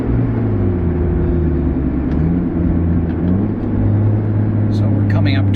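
A 2009 Nissan Cube fitted with a J2 stainless steel cat-back exhaust, heard from inside while driving as a steady low engine drone with a smooth humming tone, and a voice faintly present.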